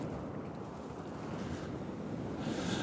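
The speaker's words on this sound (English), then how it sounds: "it's that noise of that sea" Waves wash steadily on Kilnsea beach on the Holderness coast, a continuous low roar of surf blended with heavy wind buffeting the microphone, with no voices.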